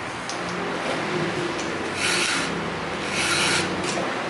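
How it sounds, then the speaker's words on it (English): A hand file rasps across chainsaw teeth during sharpening, steady back-and-forth scraping strokes up close with louder passes around the middle and end, no talk. "Then you can switch your file side, sharpen all the teeth on the other side."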